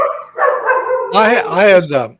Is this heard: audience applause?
no